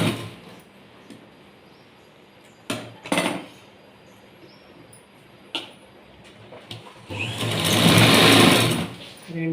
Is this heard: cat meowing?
no